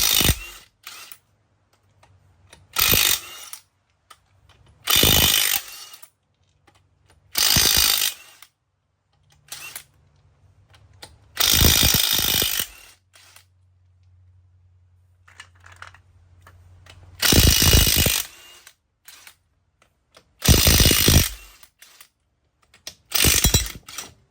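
A ratchet wrench spins lug nuts off a vehicle wheel in short, separate bursts of rapid clicking, close and fairly loud, with quiet gaps between each burst and no voices.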